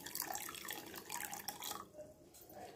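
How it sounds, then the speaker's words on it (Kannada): About 150 ml of water is poured over half a kilogram of sugar in a pan for jalebi syrup, a close, bubbly trickling splash that runs for under two seconds, then quiet liquid sounds. "ಸಕ್ಕರೆ ನಾವು ಪಾಕ ಮಾಡ್ಕೊಳ್ಳೋಕ್ಕೆ ನೀರು ಹಾಕ್ತಾಯಿದ್ದೀನಿ."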